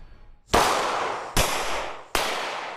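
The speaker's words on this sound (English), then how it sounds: "That's the sound of gunfire from a semi-automatic 9mm handgun." Three loud gunshots from a semi-automatic 9mm handgun fired during a test of bullet-resistant backpack inserts, each a sharp crack with a long decaying tail, spaced under a second apart.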